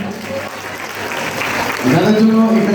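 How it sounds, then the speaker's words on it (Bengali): Audience applause at a dance academy's annual show, a dense wash of clapping that swells, with a voice and tonal sound rising over it toward the end. "এই দুজনের জন্য একটু জোরে হাততালি হবে"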